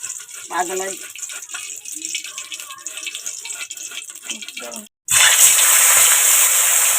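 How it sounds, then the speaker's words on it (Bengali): Cooking oil is poured into a hot karai for a fish dish (tel koi). A loud, steady sizzle bursts in abruptly after a stretch of quiet talking and kitchen sounds. "কড়া গরম হয়ে গেছে তেলটা দিয়ে দেবো"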